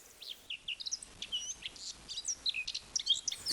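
Small birds sing near and clear, a busy stream of quick high chirps and whistled notes in uneven bursts, with a quiet background and no voices.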